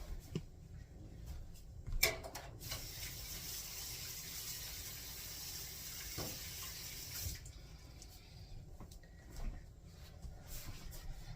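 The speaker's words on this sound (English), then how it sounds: "let me wash off my hands real quick" Hands being washed under a running kitchen tap, a steady hiss of flowing water splashing into a sink with a few knocks and clinks, fairly quiet and heard without any talk.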